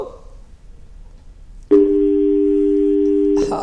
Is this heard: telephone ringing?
yes